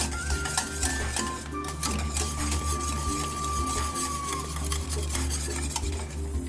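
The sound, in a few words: whisking soufflé mixture in a pan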